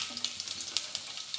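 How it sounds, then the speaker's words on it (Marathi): Mustard seeds crackle and pop in hot oil, a quiet steady sizzle dotted with sharp little spits and bursts, heard alone and close. "तेल आपलं गरम झालंय, आपण टाकून घेऊया मोहरी"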